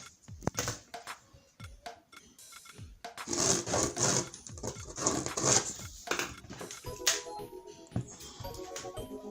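Scissors cut through Ankara fabric up close while a bag is made, giving a run of crisp snips and soft rustling with sharper bursts in the middle. No one speaks.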